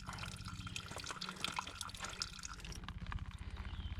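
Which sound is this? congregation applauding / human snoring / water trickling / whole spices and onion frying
water trickling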